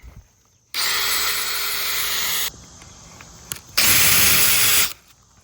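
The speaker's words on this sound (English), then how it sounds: "I'm gonna drill my test hole right here" A power drill bores into wet, living tree wood in two loud, close bursts: a long steady whine, a quiet pause, then a shorter burst.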